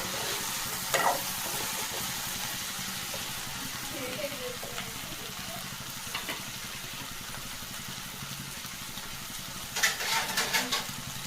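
Steady low sizzle of okra frying in a pan with occasional scraping and stirring clatter, a louder burst of stirring near the end; no voices.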